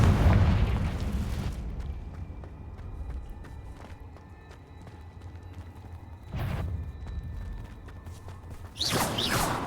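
The Confringo blasting spell in Hogwarts Legacy goes off in booming blasts: one loud burst at the start, then quieter rumbling, and two further sharp bursts later on.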